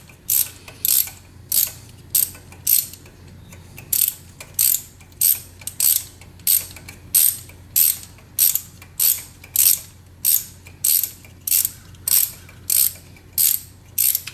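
A ratchet socket wrench clicks steadily as it backs a spark plug loose, each short burst of pawl clicks repeating in a regular rhythm close to the mic, with no talking.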